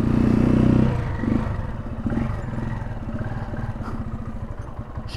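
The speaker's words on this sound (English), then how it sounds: "And off we go." Janus Phoenix 250 motorcycle pulling away on a cold morning, its single engine droning loud and close, then settling into a steady mechanical thrum with some clatter as it moves off.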